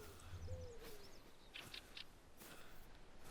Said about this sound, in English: Sounds like some kind of bird.